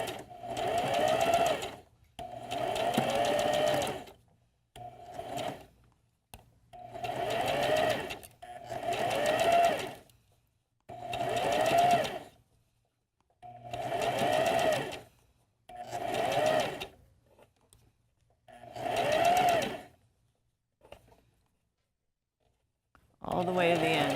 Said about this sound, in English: So relatively slow so that you have time to take out the pins before you get to them, before you sew over them.